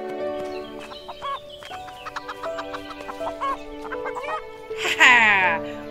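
A chicken clucks repeatedly in the farming video game Everdream Valley, a string of close, bright clucks and squawks over background game music, rising into a louder squawk near the end.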